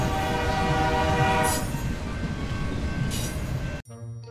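Train rumbles loudly with steady wheel noise on the rails, horn tones sounding across it, before cutting abruptly to a quieter cartoon-style scene.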